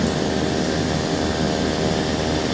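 Turboprop engines of a Blacksquare Turbine Duke running steadily in a flight simulator game, a constant loud whine and hum holding level throughout with no talk.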